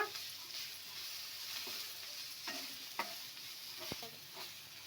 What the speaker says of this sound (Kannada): ಕಟ್ ಮಾಡ್ಕೊಂಡಿರೋಂಥ ಕೊತ್ತಂಬರಿ ಎಲ್ಲವನ್ನು ಹಾಕಿ ಈ ಥರ ಒಂದ್ಸಲ ಫ್ರೈ ಮಾಡ್ಕೊಬೇಕು